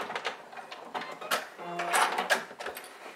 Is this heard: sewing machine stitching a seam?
yes